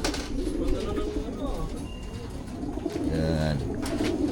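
Racing pigeons coo during basketing at a club training toss in Lopez, Quezon: soft, repeated throaty coos and a few chirps sound close by while people talk nearby.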